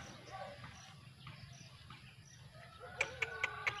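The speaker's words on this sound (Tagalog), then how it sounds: "Kainin nyo, mga manok." Chickens being fed outdoors cluck in a few quick, sharp calls near the end, over faint rustling and a quiet insect-like background; sounds are soft and somewhat distant.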